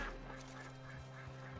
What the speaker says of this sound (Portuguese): Ó, um pato.